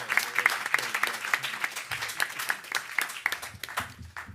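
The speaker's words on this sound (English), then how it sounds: "a round of applause for our excellent" An audience applauds a panel at the close of a party conference session on the UK's low-carbon energy grid, a dense steady patter of many hands for several seconds with no voices over it.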